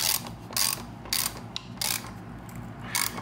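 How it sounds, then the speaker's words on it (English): A 3/4 inch wrench tightening a castor wheel bolt on a Magic Mobility Frontier V6 wheelchair, a series of quick ratcheting clicks in short bursts, close and alone. "We'll tighten down this side as well."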